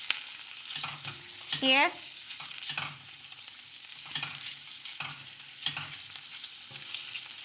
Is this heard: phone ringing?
no